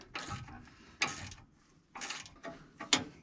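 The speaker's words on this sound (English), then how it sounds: "Tighten the jam nut up" A ratchet wrench tightens a jam nut on a Massey 8570 combine, producing four short bursts of quick metallic clicking, fairly faint, with quiet gaps between them.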